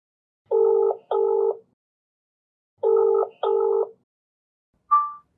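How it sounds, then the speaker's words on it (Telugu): Two double-pulse telephone ringing tones on a phone line, clear and evenly spaced, followed by a short beep. "ఫోన్ ఒకసారి కలిపి. ఫోన్ చేయి"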